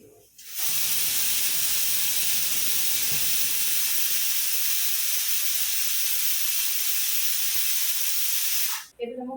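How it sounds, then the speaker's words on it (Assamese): A pressure cooker on a kitchen stove lets out a loud, steady hissing whistle of escaping steam. It starts abruptly, holds for about eight seconds and then cuts off. "এতিয়া কুকাৰে হুইচেল মাৰিছে"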